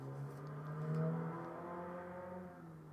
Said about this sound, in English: Also a very loud car that just went by outside.